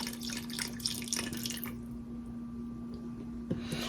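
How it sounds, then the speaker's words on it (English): Chicken stock poured from a container into cornbread dressing: a close, splashing liquid pour that runs for under two seconds, then trails into quieter wet squishing and a faint drip. "Okay, now let's add some of this chicken stock"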